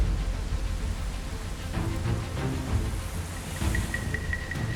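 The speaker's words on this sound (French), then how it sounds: "maintenant la pluie" Steady rain pours outdoors, mixed with gusting wind, on an island survival challenge, a dense continuous hiss with no voices over it.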